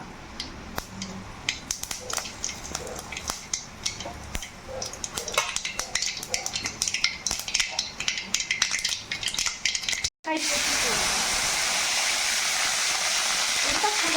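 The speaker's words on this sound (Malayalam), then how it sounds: "കടുക് നന്നായിട്ട് പൊട്ടണുണ്ട് കേട്ടോ." Mustard seeds crackling and popping in hot coconut oil in a pan, a quick irregular run of sharp snaps, close and lively, ending in a steady sizzling hiss after a brief break.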